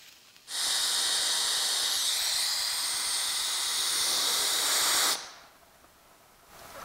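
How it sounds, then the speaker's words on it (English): A steady, loud hiss of blown air cools a polypropylene plastic welding rod, beginning abruptly, holding constant for about four and a half seconds, then cutting off and leaving quiet. "So I cooled the rod with air just enough so that the welding rod will stand straight up"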